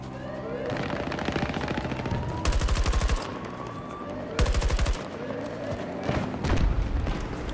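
Close automatic weapon bursts in the video game Battlefield 2042 sound as sharp rapid rattles, with two long strings of fire and shorter volleys amid a busy battlefield din.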